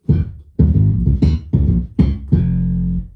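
A keyboard bass line plays five evenly spaced, rigidly timed notes with a stiff, mechanical feel, the last one held longer; no voices.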